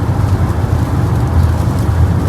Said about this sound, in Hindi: रास्ते में बारिश काफ़ी हो रही है, कहीं तेज़ हो जाती है कहीं आहिस्ता हो जाती है